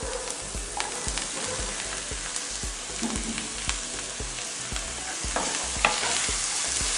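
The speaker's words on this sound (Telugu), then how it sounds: "ఇప్పుడు బీరకాయ వేసుకుంటున్నాను" Chopped ridge gourd fries in a pan with salt, a steady sizzle under regular close taps and scrapes of a spoon stirring it.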